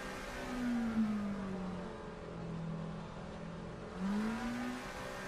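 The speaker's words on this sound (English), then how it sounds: "yeah, I've got to rev it out" A car engine revving up and easing off during a mini enduro race, two rising whines bracketing a steadier drone, moderately loud and with no talk.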